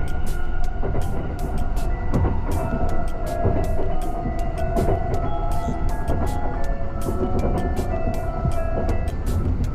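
Riding inside the Ise-Shima Liner limited express on its run from Nara to Kyoto: a constant rolling rumble of the car, punctuated by regular clicks of the wheels passing over rail joints, with no talking.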